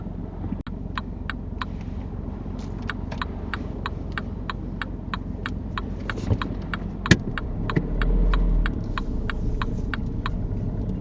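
A car driving off during a UK driving test, heard from inside as a steady engine and road rumble with a regular indicator ticking throughout and a brief knock partway through; no talking.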